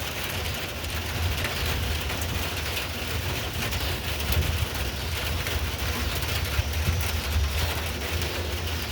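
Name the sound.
rain with a gentle rumble of thunder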